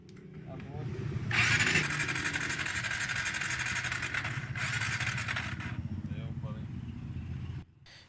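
A Barako 3 Fi motorcycle, a fuel-injected bike with an electric start fault, fires up after a kick start and runs loud and steady at idle for several seconds close by before cutting out abruptly near the end.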